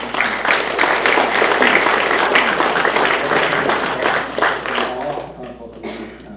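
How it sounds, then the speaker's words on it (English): An audience at a swearing-in ceremony for city council members and a mayor applauds, a dense, sustained burst of clapping that gradually fades toward the end. "A round of applause for them, please."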